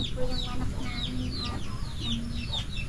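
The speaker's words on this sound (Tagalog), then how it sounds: "Dami niyang alagang manok dito." Backyard chickens cluck steadily and close by, overlapping squawks and short calls from several birds over a noisy outdoor background.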